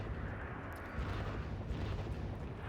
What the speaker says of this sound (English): Mortars are going to unload on this command